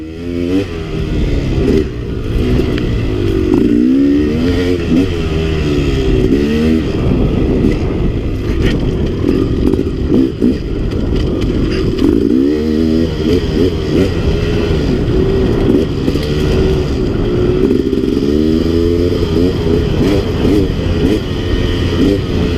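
A KTM 300 XC two-stroke dirt bike ridden on rough cliffside terrain, its engine loud and close, revving up and down continuously with rising and falling pitch sweeps and some clatter over the whole stretch.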